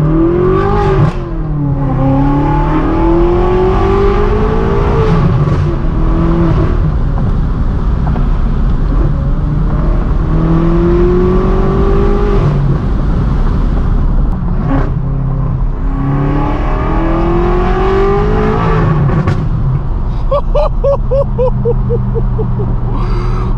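A manual BMW M6 Gran Coupe tuned to 800 horsepower revs hard through its loud exhaust, rising and falling in repeated pulls that run almost continuously, close and powerful, with a brief lull midway.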